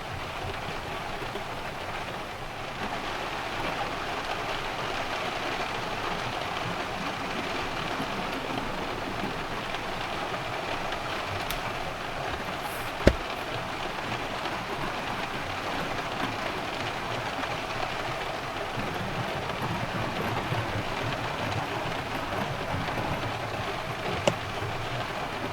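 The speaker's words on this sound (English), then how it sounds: "Had some serious thunder right now." Heavy rain pours steadily at a campsite during a summer thunderstorm, a dense continuous roar with a couple of brief sharp cracks, no voices.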